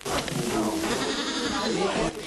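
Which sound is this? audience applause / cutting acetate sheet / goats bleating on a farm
goats bleating on a farm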